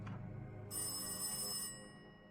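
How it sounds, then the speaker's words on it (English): A telephone in the Darkside Detective video game rings once in a single bright, sustained electronic trill, clear and alone against a low music bed. "Phone's ringing."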